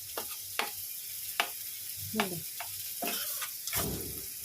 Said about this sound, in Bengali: লাল শাকটা ভাজাও হয়ে এসছে